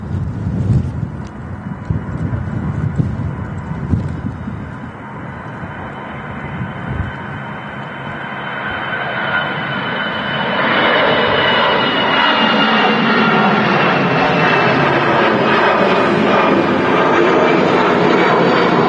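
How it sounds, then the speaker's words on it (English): An Aer Lingus Airbus A320 airliner starts its takeoff roll at Manchester Airport, engines swelling into a loud, steady roar and whine, with wind buffeting the microphone throughout. "Here we go, the Aer Lingus A320"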